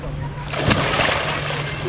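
A swimmer splashes into cold water on a hot summer day in the Austrian Alps, with one brief, close splash and then some gentle sloshing.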